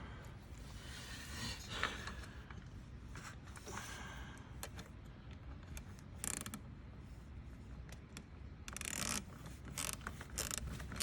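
Ratchet clicking while tightening a BMS intake on a BMW 340i, with short bursts of metallic ratcheting and mechanical clatter close up, alone and without talk.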